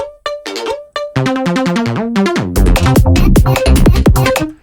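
A busy, resonant synth bass line with squelchy, shifting tones plays alone, growing denser and louder partway through.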